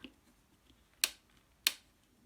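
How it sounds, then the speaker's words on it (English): Two sharp plastic clicks snap close by, about half a second apart, as the reels of a Sony EL-5 Elcaset cassette lock onto their pins, against near silence with a few faint ticks. "depress the locking pins here so you hear it snap in."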